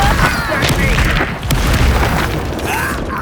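The Bombarda explosion spell booms in Hogwarts Legacy with a loud, dense blast and crackling debris lasting a few seconds, followed by a second heavy burst midway.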